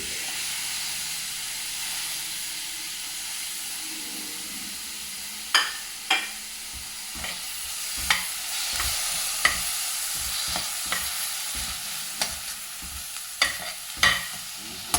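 Masala for a coconut-roasted chana curry sautés in a pan with tomato, a steady sizzle and hiss broken by sharp, irregular scrapes and knocks of the stirring spoon, close and clear with no talk.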